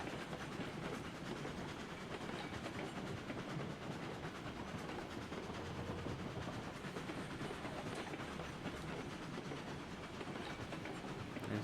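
A locomotive in the Railroads Online video game rolls steadily along the rails with a continuous rumbling, clattering rhythm that stays loud and even throughout, with no voices.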